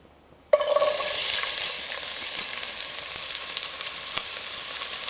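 After a brief quiet, garlic, onion, scallion and pepper hit hot oil with a sudden loud crackling sizzle that settles into a steady, close frying hiss, with no voices.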